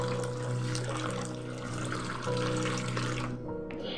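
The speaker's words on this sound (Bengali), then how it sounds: "এবারে এই শ্যামা চালগুলোকে আমি পরিষ্কার করে জল দিয়ে ধুয়ে নিচ্ছি যতক্ষণ না জলটা ক্লিয়ার হচ্ছে" Shyama rice rinsed in water until the water runs clear, a steady close splashing and running-water wash that continues without pause and thins out near the end.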